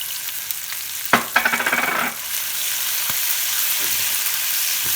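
Spinach added to watery tomato in a pan for a Greek omelette sizzles steadily, with a burst of crackling and stirring clatter early on, then settles into an even fry.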